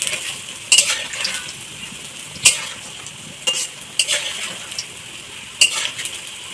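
Vegetables frying in a hot wok, with a continuous sizzle broken by sharp scrapes and clanks of a spatula stirring against the pan at irregular intervals, close by and with no voices.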